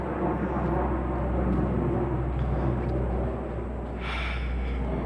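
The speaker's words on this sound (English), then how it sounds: "Part of me wants to search for a place where there's no airplane noises." Airplane passing overhead as a steady, broad low roar that swells slightly and holds throughout, with a brief brighter hiss near the end; no talking.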